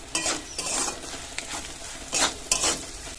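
Prawns frying with spices in a pan, a steady sizzle broken by bursts of stirring and scraping, with a few light utensil knocks against the metal.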